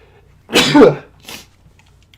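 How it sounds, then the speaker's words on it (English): A single loud sneeze close by, a sharp intake then an explosive burst, followed by a short fainter exhale, with quiet background otherwise. "Man, I don't know why I'm sneezing like I am."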